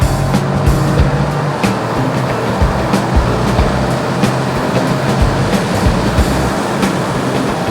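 A Dodge Challenger R/T engine rumbles loud and close, deep and continuous with low surging pulses as it downshifts and accelerates, heard from inside the car.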